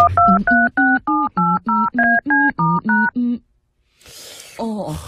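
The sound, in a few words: telephone dialing tones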